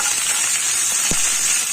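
Curry leaves frying in hot oil in a pan for a spiced idli dish give a steady, bright sizzle that holds the whole time, with a brief pop partway through; no one speaks.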